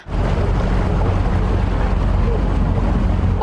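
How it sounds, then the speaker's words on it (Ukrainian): Police patrol boat out on the water, a loud continuous engine drone and rushing wind and water noise filling the whole moment up close, with no break. "Патрулі на катерах моніторять водойми."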